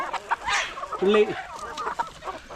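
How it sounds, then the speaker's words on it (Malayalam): Free-range chickens on a farm cluck in short, close bursts, with one clear call in the middle. A voice speaks briefly among them. "കോഴികൾക്കൊക്കെ ഇണക്കമുള്ള കോഴികളൊക്കെ ഉണ്ടോ."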